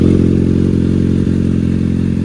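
A 2022 Kawasaki Ninja ZX-6R with an aftermarket exhaust idles loud and steady up close, burbling with a throaty, low exhaust tone and a faint clatter midway.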